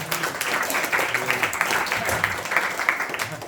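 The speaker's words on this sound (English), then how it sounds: "Please give a round of applause." Steady, dense applause from a class audience during a Bhagavad Gita talk, filling the whole stretch at an even level with faint voices mixed in.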